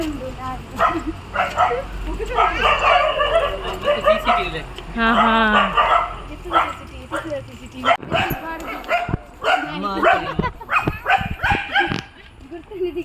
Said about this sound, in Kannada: ದೊಡ್ಡ ನಾಯಿಲು